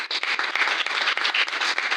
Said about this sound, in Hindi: पप्पू जी के जबरदस्त तालियां।